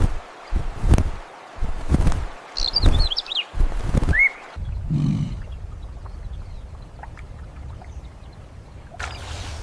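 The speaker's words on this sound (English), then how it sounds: "The birds lift off in a loose line, red bills catching the last light, and beat upstream toward their roost." Red-billed oxpeckers lift off from a riverbank at dusk with a few high, wavering chirps. The calls sit over heavy low thumps and rumbles from the water nearby, then fade into a quieter background.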